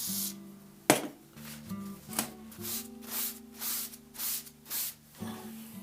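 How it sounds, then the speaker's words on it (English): A can of WD-40 lubricant sprays onto a knife sharpener in a series of about eight short hissing bursts at a steady rhythm, close and moderately loud, with faint background hum. "just using a bit of WD-40 lubrication"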